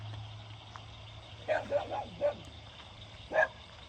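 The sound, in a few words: dogs barking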